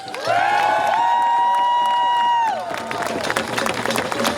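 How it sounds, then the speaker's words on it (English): At an outdoor climate rally in Vancouver against fracking, a loud, held whistle or whoop rings out over the crowd for about two seconds, then gives way to scattered clapping and cheering. "Let's give them an applause."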